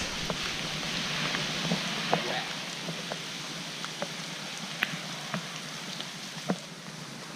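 Steady outdoor rain hissing across the whole stretch, with scattered louder drops tapping nearby and no voices.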